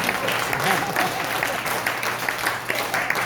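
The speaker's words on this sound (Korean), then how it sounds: "박수로 한번 칭찬 한번 해드리자" Applause at a Korean committee meeting, steady clapping from a small group of people under faint overlapping voices, continuous for a few seconds.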